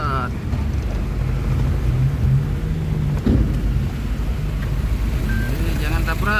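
Heavy rain pours down in Calang, Aceh Jaya, a dense continuous hiss with low rumbling underneath, while people talk nearby over the downpour.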